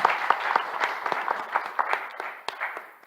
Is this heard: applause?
yes